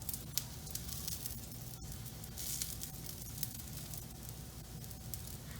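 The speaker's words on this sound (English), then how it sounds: "Okay, so I'm gonna cook up my pancakes and I will be right back." Apple pie pancakes frying in a pan give a faint, steady sizzle with soft crackles and a few sharper pops throughout, heard alone without talk.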